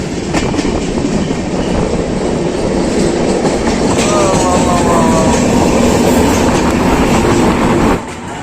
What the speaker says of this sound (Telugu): మన ట్రైన్ అయితే స్టార్ట్ అయిపోయి ఇంకో టన్నుల్లోకి అయితే ఎంటర్ అయిపోయింది